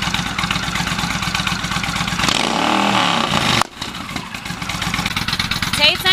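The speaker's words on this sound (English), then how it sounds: "We took a trip to a local cigar shop on one of Uncle David's motorcycles" A motorcycle ridden on a trip to a local cigar shop, its engine running loud and close with a rough, clattering drone, rising and revving partway through amid strong wind noise.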